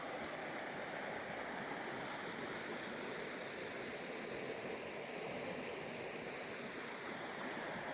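A creek pours steadily over bedrock, a dense, even rushing wash that holds constant and fairly soft throughout, with no voices.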